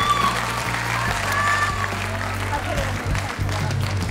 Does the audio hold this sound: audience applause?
yes